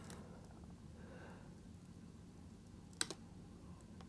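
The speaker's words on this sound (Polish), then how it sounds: "teraz było jeszcze jedno delikatne kliknięcie" A faint, sharp metallic click from picking an ABUS Zolit 1000 lock stands out once against a steady low hum, followed by a softer second tick.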